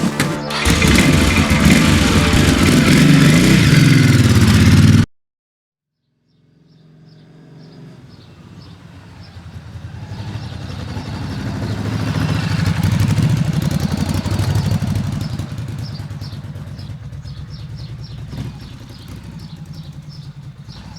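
An Elefant motorcycle engine runs loud and close for about five seconds, cuts off abruptly, then rumbles back in from a distance, growing stronger and steady before easing slightly as it carries on.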